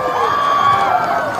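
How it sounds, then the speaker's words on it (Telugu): A large crowd at a political meeting of graduates in Khammam cheers and claps loudly, a dense continuous roar of voices and applause with shouts rising through it. "ఒకసారి గట్టిగా చప్పట్లు కొట్టండి"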